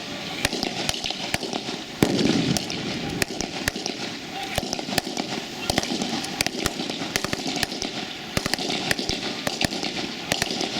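Rapid sharp gunshot bangs ring out during a police mock raid drill at a simulated polling station, dense irregular volleys with a few louder shots, while someone talks over them throughout.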